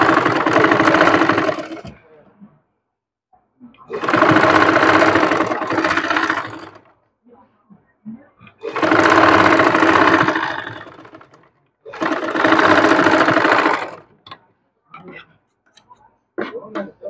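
A sewing machine stitches along a folded fabric edge in four bursts of about two seconds each, separated by short pauses, with faint handling noises and a soft voice in the gaps.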